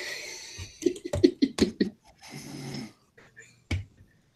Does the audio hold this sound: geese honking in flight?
no